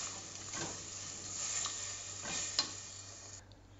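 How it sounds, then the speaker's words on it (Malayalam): A spoon stirs jackfruit seed payasam mixture in a pan, giving soft repeated scrapes over a faint, low simmering sizzle, with one small sharp clink near the end. "നമുക്ക് നന്നായിട്ടൊന്നിനി മിക്സ് ചെയ്യാം."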